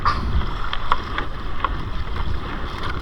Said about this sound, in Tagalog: lakas ng hangin at saka alon